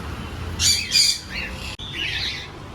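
Cockatiels in a new breeding cage squawk and whistle in short bright bursts, close and fairly loud over a steady background hiss, with no talking.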